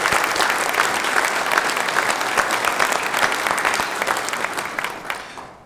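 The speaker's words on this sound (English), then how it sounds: "So a good applause would go well." Audience at a fire department commendation ceremony gives sustained applause, a dense steady wash of many hands clapping that holds for several seconds before beginning to taper off at the end.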